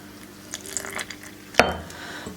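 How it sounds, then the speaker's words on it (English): Water trickles and drips in small additions into a bowl of flour for homemade dumpling dough, faint splashes and drips close by with one sharper pour midway. "We're going to start adding some water. Just add a little bit at a time."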